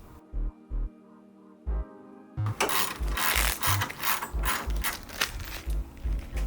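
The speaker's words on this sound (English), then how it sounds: "So the 10mm socket, we're going to remove the 4 bolts holding the grill on." A ratchet with a 10mm socket removes grille bolts on a 2020 Chevrolet Silverado 1500, starting with a few separate clicking strokes, then a fast continuous ratcheting run, close and clear, with no talking.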